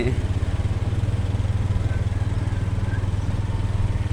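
A motorcycle ridden by a father with the mother aboard, its engine chugging in a steady, loud, close throb throughout with no talk over it.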